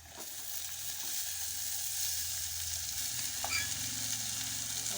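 About a quarter kilo of horse gram fries in a pan with a steady, close, continuous sizzle and no one speaking.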